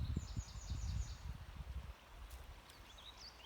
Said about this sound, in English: I am about to show you this beautiful, beautiful creek